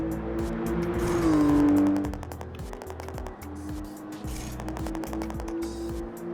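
Toyota Supra engine in Gran Turismo 7, revving and shifting through gears with a steady pitched drone that swells and dips, up close, with rhythmic clicking over it.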